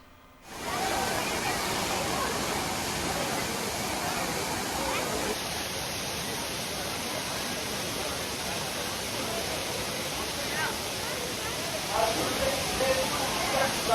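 Waterfalls at Courtallam in the Western Ghats pour in heavy flow, a constant broadband roar that starts abruptly after a moment of quiet and stays loud and even throughout.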